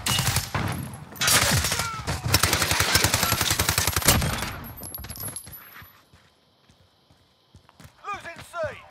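Rapid automatic gunfire in Call of Duty: Modern Warfare, dense overlapping bursts for about four seconds, then easing into quieter game sounds and scattered effects.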